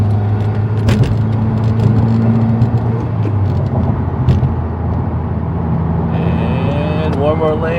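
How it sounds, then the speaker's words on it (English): Subaru WRX turbocharged engine accelerating hard while merging onto a highway, a steady loud drone with a rising whine near the end and talk over it. "Hear that turbo swish?"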